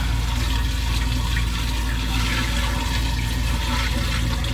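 Waste from a Barker four-wheel RV tote gushes into a toilet, a continuous loud rushing and gurgling flow that holds steady throughout with no voices.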